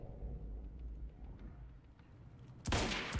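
Gunfire from the video game Quantum Break breaks out as a loud, dense burst of shots near the end, after a quieter stretch of low rumbling game sound.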